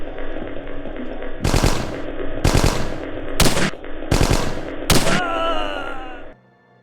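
Five loud, close bursts of automatic gunfire from Hidden & Dangerous Deluxe, fired at a wall in a WWII setting, spaced about a second apart over a steady game hum, with a voice-like groan near the end.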